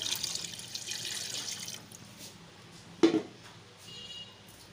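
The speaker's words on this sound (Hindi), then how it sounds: "और अब पानी डालेंगे।" Water pours steadily into a pot for nearly two seconds, then stops; a sharp clink follows, and faint splashes and trickles come after in a quiet room, while cooking a liver and kidney curry.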